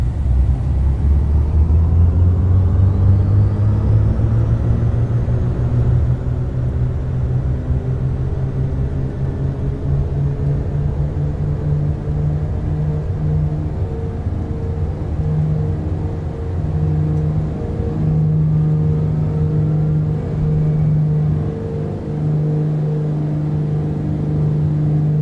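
The twin piston engines of a Beechcraft Piston Duke in the MSFS2024 simulator, held at takeoff throttle: a loud, steady propeller drone with a deep engine rumble that builds slightly and holds for the whole stretch.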